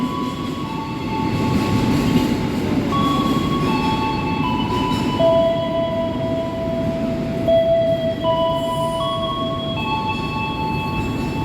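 Joglosemarkerto passenger train running between Solo and Tegal in Indonesia, a steady low rumble of rolling wheels with sustained tonal whines and hums, heard continuously from inside the carriage.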